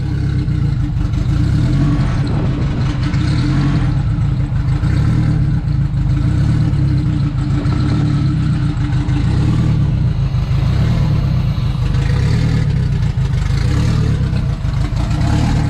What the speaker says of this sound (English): I'm gonna go ahead and crank the car over and warm this thing up